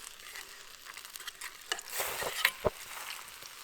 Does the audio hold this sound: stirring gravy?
yes